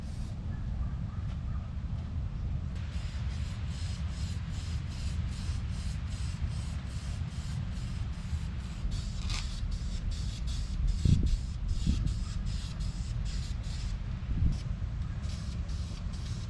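Spray can hissing steadily as engine parts from a 2000 Acura Integra are painted, a continuous sustained spray with brief pauses and a few faint knocks.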